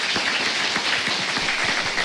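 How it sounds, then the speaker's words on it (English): A hall audience applauds at a Total War: Arena premiere screening, a soft, steady wash of many hands clapping at a distance, even and continuous without speech on top. "Les applaudissements dans la salle"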